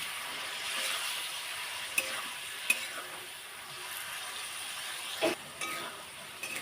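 Boiled water lily stems are stirred with spices in a frying pan. A steady sizzle runs throughout, with occasional utensil clinks and scrapes close by, and no talk.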